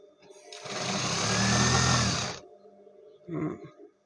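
A sewing machine stitches elastic band onto fabric during a garment repair, running in one steady, loud whirring burst of about two seconds, then a short second burst after a pause.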